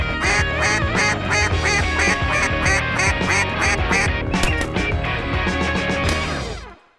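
A dense flock of ducks quacks loudly and close during a morning duck hunt, a continuous overlapping chorus of calls that cuts off abruptly near the end.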